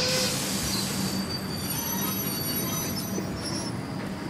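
A train pulls into a platform at a junction station on a rainy winter night, wheels squealing steadily over a broad rumble, loud and close throughout, with no voices.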